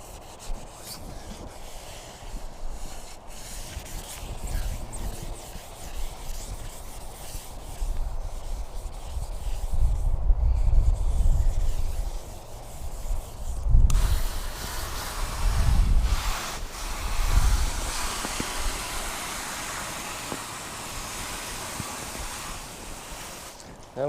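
Car clearcoat is wet-sanded by hand with 2000 grit sandpaper, a steady close rubbing hiss with slow swelling strokes and a few louder bursts midway.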